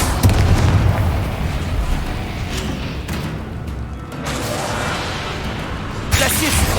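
Confringo fire spell blasts in the game Hogwarts Legacy: heavy, rumbling booms and bursts in a dense, loud stretch, with a voice speaking over them.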